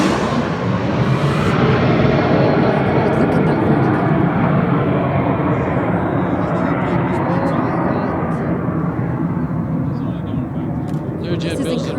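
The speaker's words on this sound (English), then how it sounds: "We use this airplane for air shows too." Loud, steady roar of a Learjet's jet engines filling the whole stretch, dense and continuous with little change in intensity.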